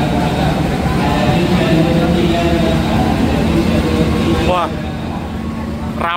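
Train on track 3 at Kroya station in Indonesia, a loud continuous rumble and hum of rolling stock close by, easing slightly in the last seconds as a voice briefly sounds.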